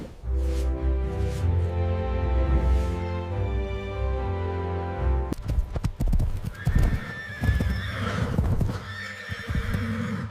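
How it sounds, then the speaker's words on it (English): Horse sounds: a long, loud, wavering neigh opens, then brisk clip-clopping hooves and further whinnies follow, close and prominent without talk. "It's a horse."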